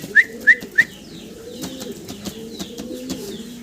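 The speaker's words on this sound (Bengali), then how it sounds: "এখানে সিঙ্গেল একটা কবুতর দেখাচ্ছি, শ্যাডেল রেসার।" Pigeons at a farm, including an imported Schadel racer, coo softly in low repeated calls, with three sharp chirps early on and faint background bird sounds.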